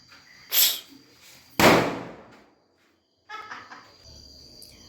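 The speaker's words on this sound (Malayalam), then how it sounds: "വൈകുന്നേരം എഴുന്നേറ്റ് ഞങ്ങൾ കമ്പിത്തിരിയും പൂത്തിരിയും എല്ലാം കത്തിക്കാൻ വേണ്ടി തുടങ്ങി." Christmas sparklers and fireworks being lit in the evening: two loud, sharp hissing bursts, then a quiet pause and a softer, longer crackling sputter.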